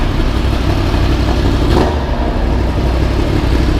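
A Yamaha MT10 motorcycle engine runs and revs close by, a loud continuous mechanical roar with a brief surge in the middle, no voices over it.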